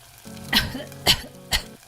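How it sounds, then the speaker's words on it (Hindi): A woman coughs three times, loudly and close by, while cooking at a stove filled with poisonous smoke, with a faint sizzling hum beneath each harsh cough. "एक सुबह राधिका खाना बना रही होती है, तभी चूल्हे के जहरीले धुएं से खांसने लगती है।"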